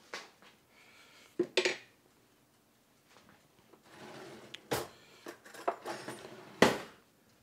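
A fork scrapes and picks cooked spaghetti squash strands from the shell, made in a Cosori Instant Pot multi-cooker: a few sharp, scratchy bursts separated by quiet gaps, close and fairly soft.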